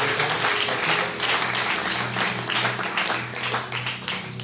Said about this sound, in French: Est-ce qu'on peut acclamer d'abord très fort pour l'interprète?